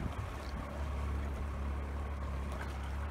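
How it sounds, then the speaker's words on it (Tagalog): A large motorboat engine running on open water, heard from a nearby canoe: a steady, loud low drone with broad wind and water noise over it throughout. "Ang laki ng motor nila."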